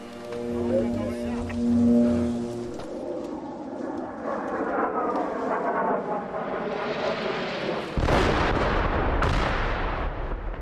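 Heavy booming blasts and rumbling bursts of gunfire from military bombing of homes and buildings, with a low drone and a sharp, loud explosion near the end.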